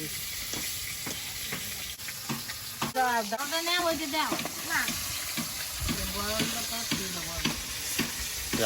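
Potatoes fry in a pan for a Bengali-style aloo bhaja, giving a steady close sizzle with stirring, while voices talk over it throughout.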